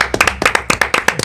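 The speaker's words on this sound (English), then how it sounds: "Everyone, round of applause." Audience applause at a development summit: a short burst of brisk, close hand clapping with quick uneven claps and no talking over it.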